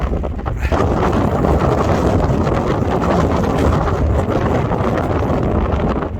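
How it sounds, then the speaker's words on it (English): Strong wind roars steadily against the microphone at a wild camp on Grindslow Knoll in the Peak District, a loud, continuous buffeting rumble with gusty surges and no voices. "So it's still pretty windy right now."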